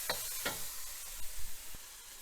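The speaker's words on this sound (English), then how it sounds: "we're going to cook this till the garlic gets a little bit" Garlic fries in a pan for Kung Pao chicken. A quiet, steady sizzle plays under occasional soft scrapes and taps of a utensil stirring the pan.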